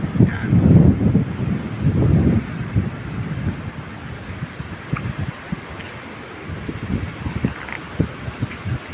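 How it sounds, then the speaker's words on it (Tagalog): Strong wind at Bati-Bati Beach in the Philippines buffets the microphone in heavy rumbling gusts, easing slightly after a few seconds but staying constant, with no voices. "Medyo may kalakasan kunti yung hangin"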